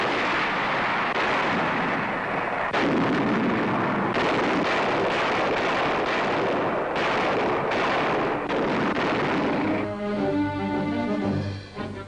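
American warships shell Manus and Los Negros in the South Pacific during World War II, a series of heavy, rumbling naval gun blasts and explosions, loud and repeated, giving way to music near the end.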